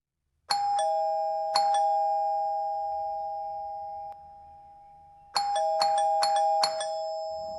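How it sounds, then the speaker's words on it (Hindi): A doorbell chimes twice, falls quiet for a moment, then rings in a quick run of four more chimes, each note ringing on clearly. "उसकी ननद इतनी देर से दरवाजे पर घंटी बजा रही थी।"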